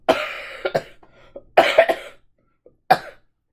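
Several sharp coughs in quick bursts, close and loud, with short silent gaps between them.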